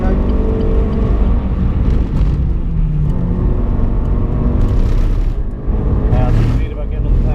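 Racing car accelerating at full power on track at Donington, heard as a loud, continuous engine roar from inside the car, steady throughout with a slight dip near the end, while someone talks over it.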